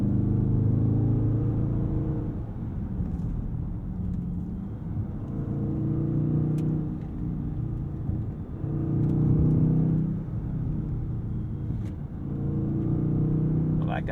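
A Dodge Charger Scat Pack Widebody's engine pulls out of corners in repeated surges, a deep rumbling exhaust rising and falling in several waves as heard from inside the car.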